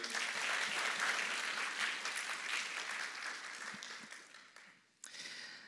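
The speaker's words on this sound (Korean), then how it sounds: "박수로 환영할까요?" A church congregation at a Sunday worship service in Seattle applauds to welcome a deacon to the front, a steady crowd clapping that slowly fades and then briefly picks up again near the end.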